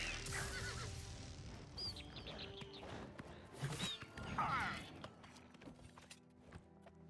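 Horse neighing in the video game Oblivion Remastered, a couple of short whinnies amid faint hoof clops, fight noises and quiet talk, all fairly soft.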